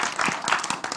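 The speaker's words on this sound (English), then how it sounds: "Everyone give them a round of applause." An audience at a talk session applauds its panelists: a brief, moderately quiet patter of scattered hand clapping.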